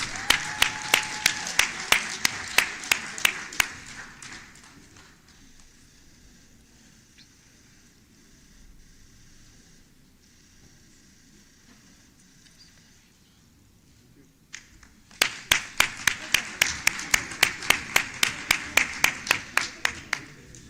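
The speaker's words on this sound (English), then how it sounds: "Please give them a round of applause." An audience at the Africa Development Impact Forum claps in a loud, dense burst of applause. It fades into a quiet stretch of room noise, then a second strong round of clapping swells up again.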